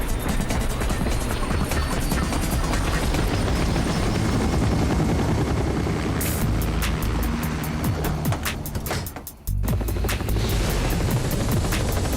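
A helicopter in the Totally Spies! cartoon roars loudly and steadily with a broad rushing drone close by, cutting out briefly near the end.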